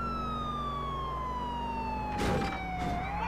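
A police siren in Grand Theft Auto IV wails with a long descending tone over steady engine and road noise, broken by a brief loud thump near the end.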